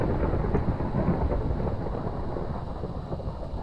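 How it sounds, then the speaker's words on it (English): Thunder after lightning in the Minecraft Pixelmon game, a sustained low rumbling roll, dense and loud throughout, with no speech over it. "Ooh, lightning! That's scary."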